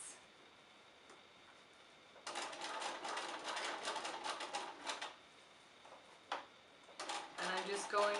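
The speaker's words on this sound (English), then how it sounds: "I'm just going really slow, letting my machine pull the fabric." Domestic sewing machine stitching slowly through thick pleats of a towel apron, heard as bursts of close, steady mechanical ticking and whirring with quiet pauses between runs.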